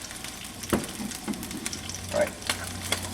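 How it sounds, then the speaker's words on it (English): Soft frying sizzle of striped bass in an oiled pan crackles steadily, with a few clicks and a brief spoken remark over it. "So now you can start to hear that fish is starting to sizzle."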